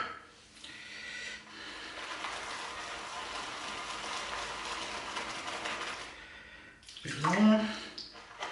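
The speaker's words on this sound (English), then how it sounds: "Add a bit of water to that in my bowl." A tap runs water into a shaving bowl in a steady, soft rush that stops abruptly, followed by brief scraping and movement nearby.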